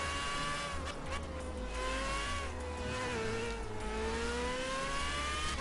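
A simulated dream-class race car in the Gran Turismo 5 video game holds a loud, sustained engine whine throughout, with the pitch rising and falling through shifts and corners.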